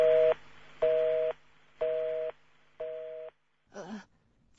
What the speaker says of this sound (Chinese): 电话挂断了。